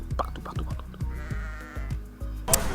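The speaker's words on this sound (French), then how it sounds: "Il y a des moutons vraiment partout." Sheep bleat over and over, close and fairly loud, in the Scandinavian countryside, with a short burst of noise at the end.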